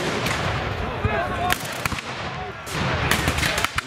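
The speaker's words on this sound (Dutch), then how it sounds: "Met heel veel kanongebulder." Cannon volleys boom repeatedly at a reenactment of the Battle of Ruigenrode in Almelo, sharp loud blasts with a busy crowd murmuring underneath.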